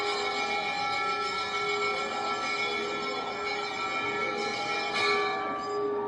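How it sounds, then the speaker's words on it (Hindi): A temple bell rings outside at the Radha Rani temple, its sustained metallic tone and overtones droning steadily throughout, with a brighter strike near the end over a busy background. "अभी एक बाहर की घंटी बजेगी।"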